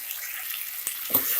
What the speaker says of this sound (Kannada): ಚೆನ್ನಾಗಿ ಮಿಕ್ಸ್ ಮಾಡಿಕೊಂಡು ಎಣ್ಣೆಲೆ 1-2 ನಿಮಿಷ ಫ್ರೈ ಮಾಡ್ಕೊಬೇಕು